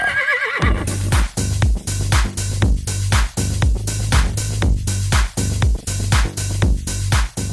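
A horse ridden during horseback archery practice gives a loud, wavering whinny at the start, followed by a steady, rhythmic pounding of hoofbeats that continues to the end.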